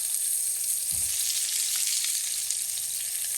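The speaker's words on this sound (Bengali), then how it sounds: "এখন আমি সবকটা লাউ এভাবে ভেজে নেব।" Bottle gourd pieces frying in hot oil make a dense, continuous close sizzle, with one dull thump of the pan or utensil near the start and no speech.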